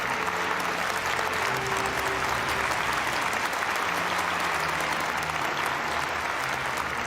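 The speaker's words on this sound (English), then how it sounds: "Please welcome him with a big round of applause." Steady, dense applause from a large audience at the Sunhak Peace Prize award ceremony welcomes Prime Minister Hun Sen, sustained and even throughout, with faint voices and music beneath.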